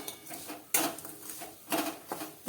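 A utensil scrapes and clinks against a pan as melting jaggery is stirred for a soft coconut sweet, with short irregular scraping strokes close by and no talking.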